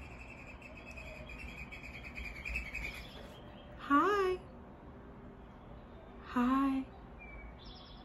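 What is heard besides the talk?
bird calling outdoors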